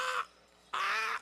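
A voice imitates a baby crow call as a war whoop, two loud, harsh caw-like cries separated by a short pause, alone and close.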